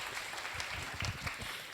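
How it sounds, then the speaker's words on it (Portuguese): Brief burst of audience applause at a workshop session on network coordination for public policy, a steady wash of clapping hands lasting under two seconds, moderately distant and without voices over it. "salva de palmas"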